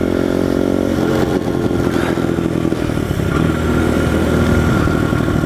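Pit bike engine revving hard and loud up close as gears shift from fourth to fifth, a continuous buzzing drone that climbs and holds with a rough clattering edge throughout.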